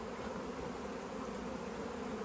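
Steady, dense buzzing of many bees in a box, continuous and fairly close, with no voices over it.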